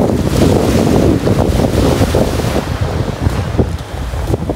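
Sea waves break on the beach at Dhanushkodi while strong wind buffets the microphone, making a loud, continuous rushing roar with surging swells and heavy low rumble.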